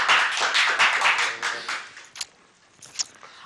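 Studio audience on a Turkish folk music TV show clapping to welcome a co-host, a brisk burst of applause that thins out into a few scattered claps.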